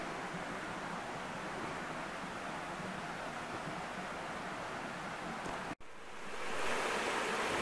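Steady close rush of a small waterfall with clear water along a rocky trail, a continuous broadband splash with no talk, briefly cut by a short dropout before resuming slightly louder.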